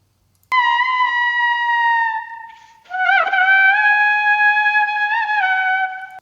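A synthetic trumpet-like tone, an AI conversion of a singing voice, plays sustained, slightly wavering notes with a short pause between two phrases, clean and alone.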